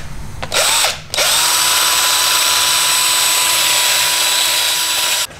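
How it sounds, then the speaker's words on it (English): Power drill with a mixing attachment stirring thickened epoxy and chopped fibers while building a fiberglass high power rocket; a loud, steady whir starts, stops briefly, then runs continuously to the end with no talking. "I'm just gonna keep mixing it, try and get as many of these fibers broken down as possible"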